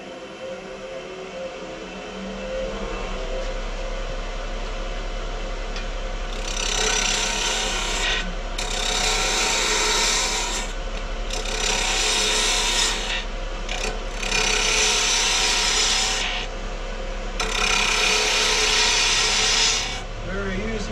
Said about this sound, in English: Larry, are you using a spindle gouge? Yes, I am. With a very deep slit. Some people call it a bowl gouge.